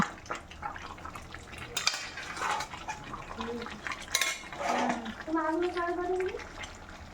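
A spoon stirs potato curry in a metal pot, giving clinks and scraping knocks against the pot with a watery simmer, while a voice speaks over part of it.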